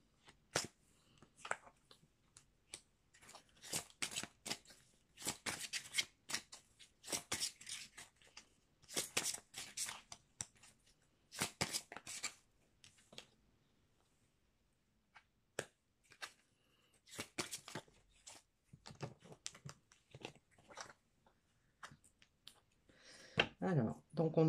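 Oracle cards from a Wonderland-themed deck being shuffled, giving bursts of crisp riffling and clicking in uneven clusters with short pauses between them, close and fairly loud.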